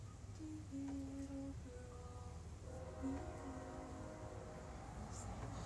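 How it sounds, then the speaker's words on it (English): A passing train sounds faintly in the distance, its horn giving long tonal blasts over a low steady rumble of rail noise, with no talking. "it's a train."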